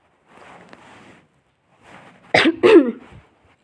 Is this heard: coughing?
yes